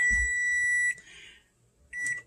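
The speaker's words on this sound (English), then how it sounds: "So our timer is just about to go off." A kitchen timer beeps while a pot of American goulash cooks on the stove, two sharp, steady electronic tones with a pause between them, clear and close.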